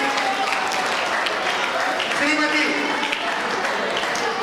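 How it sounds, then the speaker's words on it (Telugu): Schoolchildren at an education event in Armoor clap loudly and steadily as a group, a dense ongoing burst of applause with a voice speaking over it. "గట్టిగా చప్పట్లతో విద్యార్థులంతా కూడా 1 2 1 2 3 విధంగా కొనసాగుతూనే ఉండాలి"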